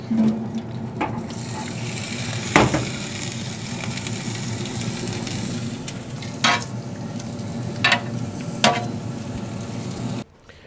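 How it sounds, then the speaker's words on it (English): Potatoes sizzle in olive oil on the griddle of a Louisiana Grills Founders Legacy pellet grill, a steady, moderate frying hiss broken by a few sharp scraping clicks. "now I will put some oil, olive oil on the griddle, and I will start roasting my vegetables"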